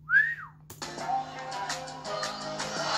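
A person whistles a single rising-then-falling note, clear and close, before crowd-like noise and voices take over as a football match plays in the background.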